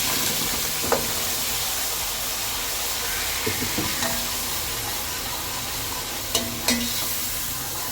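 A ground tomato, onion and green chili paste fries in a pot with a steady, dense sizzle and hiss. A few soft clinks and scrapes of stirring come through now and then.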